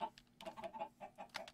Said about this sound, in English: I gotta spawn you another chicken.